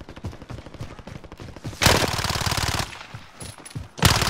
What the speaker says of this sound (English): Let me shoot first. Let me get a clear shot.